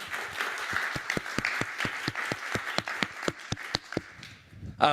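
Applause at a security conference session, a thin crowd clapping with distinct, fairly regular claps that gradually thin out toward the end.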